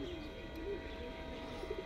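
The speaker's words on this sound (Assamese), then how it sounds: "ভাল লাগিছে ন পাৰবিলাক" Pigeons coo softly at a railway station, low repeated calls faint against a steady hum of background noise.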